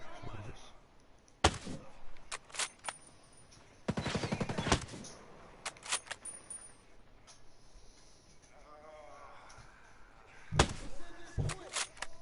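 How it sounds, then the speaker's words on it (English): Sniper rifle gunfire in Ghost Recon Breakpoint: a few sharp, loud reports spaced several seconds apart, with a short cluster of shots in the middle and quieter game ambience between them. "I'll just use a sniper rifle"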